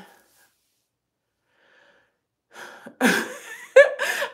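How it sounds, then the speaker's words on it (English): A few loud, rough bursts of air forced through the nose, coming in quick blasts after a quiet stretch, close to the listener. "I feel like I need to blow my nose."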